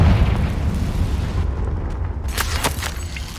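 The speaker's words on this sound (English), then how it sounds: "Confringo!" Confringo explosion spell cast in the Hogwarts Legacy video game, a loud booming blast that rumbles and decays, followed by a few sharp crackling pops.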